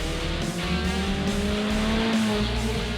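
Passing car racing by with high beams flashing, picked up from a dashcam in a car turning left at a Daegu intersection; steady engine and road roar with a rising whine and faint tire noise, continuous and fairly loud.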